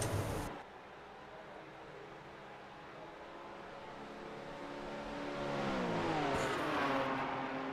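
Race car engines at the Daytona tri-oval in the iRacing sim, with Ford Mustangs and Porsches in a ChampCar enduro: a steady droning engine hum that rises in pitch and grows louder as cars accelerate, with no talk.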